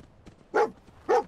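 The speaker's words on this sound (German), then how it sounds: "Der Hund hat etwas gefunden." Dogmeat, the dog companion in Fallout 4, gives two short, loud barks about half a second apart, close by, over quiet game background.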